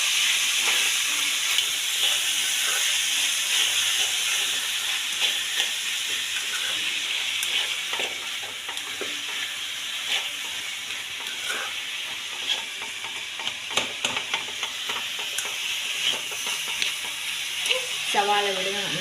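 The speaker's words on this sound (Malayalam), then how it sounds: "സവാള വിടുക നന്നായിട്ട് വഴന്ന് വരട്ടെ. നമുക്ക് സവാളയെ നല്ലോണം വഴറ്റിയെടുക്കണം." Onions sautéing with salt in a pan for chicken curry hiss steadily and close, broken by occasional stirring clicks and scrapes over nearly twenty seconds.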